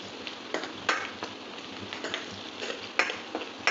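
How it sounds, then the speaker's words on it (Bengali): Two medium julienne-cut onions frying in a pan until reddish, with a soft steady sizzle broken by frequent sharp ticks and taps of stirring, close and fairly quiet, no voices. "পেঁয়াজটা এখানে লালচে করে ভাজা হচ্ছে।"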